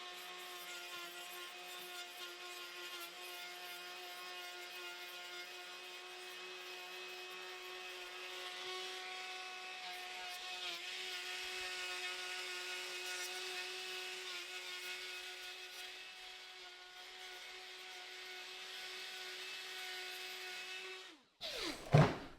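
Power carving tool taking a stub off a field-grown black pine bonsai, a faint, steady whirring motor tone with slight grinding variation, ending in a short clatter as it stops.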